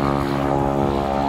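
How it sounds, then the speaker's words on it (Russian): A turbocharged propeller sightseeing aircraft drones loudly and steadily in flight, a dense, even engine hum with strong low harmonics filling the whole stretch. "Пропеллеры с турбочарджером."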